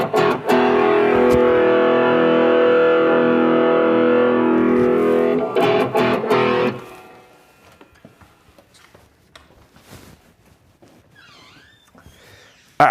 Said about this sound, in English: we're just gonna do a quick split cone with distortion here